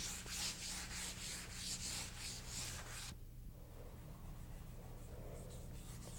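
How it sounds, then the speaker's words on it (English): Soft, close rubbing of hand sanding across a finished wood floor in a living room, steady strokes for about three seconds, then quieter scuffing over a low hum. "I'm hand sanding, and I'm blending out whiter with my hand sanding than I did with a scraper"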